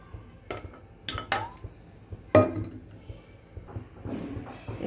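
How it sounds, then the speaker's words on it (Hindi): Metal utensils clink against a kadhai (wok) while oil is added for a two-onion chutney, a few sharp scattered knocks and clatters at close range with quiet kitchen background between them. "अब हम कढ़ाई में 3 टीस्पून ऑयल डाल देंगे।"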